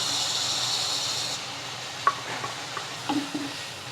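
Chili powder fries with turmeric in a pan for a moong dal gravy, a soft steady sizzle broken by a few stirring scrapes and clinks near the end.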